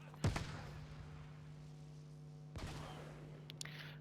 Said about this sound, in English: Now you see there where the cluster bomb drops.